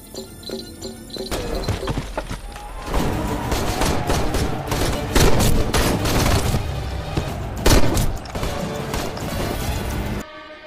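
Dense gunfire from a war film battle scene, loud volleys of rifle shots and booming impacts continuing steadily for several seconds with thuds and running, no talk.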